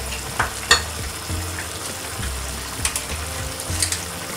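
Yogurt and butter are stirred together in a hot pan for aloo tikka masala, giving a soft continuous sizzle broken by a few sharp scrapes and clicks of the spoon against the metal.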